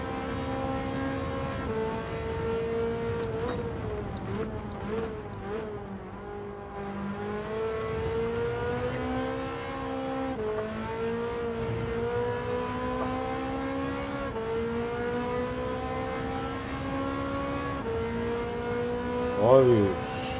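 Ferrari F8 Tributo from 2019 accelerating in Gran Turismo 7, a steady engine whine climbing through the gears with stepped pitch rises, continuous and fairly loud, with a brief louder burst near the end.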